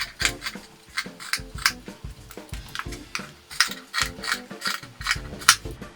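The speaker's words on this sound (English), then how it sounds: "I'm going to start by cutting both of the sleeves completely off." Scissors snip through a t-shirt as the sleeves are cut off, a series of close, crisp cutting strokes in an irregular rhythm with no talking.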